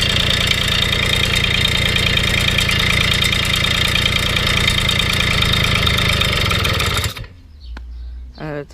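A Babeta 210 moped's small two-stroke engine idles up close with a rapid, steady putter for about seven seconds before cutting out, followed by quieter handling noises.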